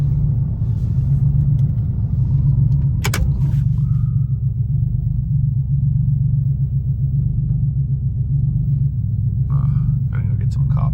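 A Porsche GT3 RS idling at a private car meet, heard as a steady, deep engine rumble, close and continuous throughout, with a brief click and faint rustling on top.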